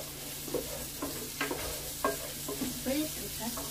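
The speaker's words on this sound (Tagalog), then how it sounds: "magluto ako ng giniling" Ground beef (giniling) frying in a pan, a steady low sizzle under repeated soft scrapes and taps of a stirring utensil, close and moderately loud with no talk.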